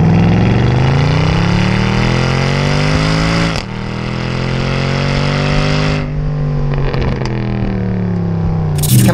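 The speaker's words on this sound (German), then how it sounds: "So, jetzt geben wir selbe Stelle wieder Gas." A Mercedes-AMG car engine revving hard under acceleration, loud and close, rising in pitch in repeated pulls with brief drops between them and a final surge at the end.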